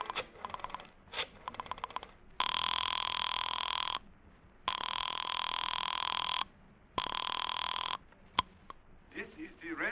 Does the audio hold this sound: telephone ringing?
yes